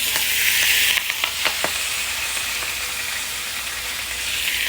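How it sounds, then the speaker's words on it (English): Leafy greens sauté in a hot pan, a steady loud sizzle with a few soft stirring clicks early on, then a continuous frying hiss with no voices. "And you just saute it"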